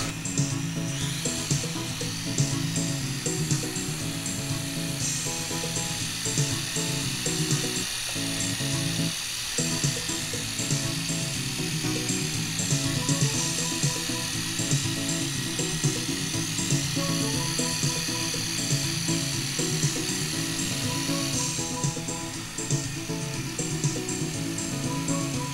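A single-motor micro flying machine whirs in flight with a steady, high-pitched buzzing drone close by, holding level for the whole stretch with only slight wavering in pitch and one brief dip.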